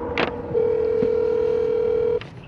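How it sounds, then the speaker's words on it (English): A telephone dials out to call an almond grower: a short click and beep, then a steady, clear tone held for about a second and a half that cuts off sharply, heard close with faint room noise. "let's go ahead and give the grower a call"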